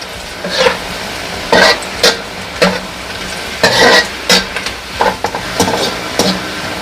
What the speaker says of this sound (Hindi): लहसुन भी हमारा अच्छे से फ्राई हो गया है।